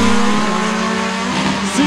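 Drag racing cars launch together down the strip at a regional drag racing event, their engines roaring loud and close in a brief burst.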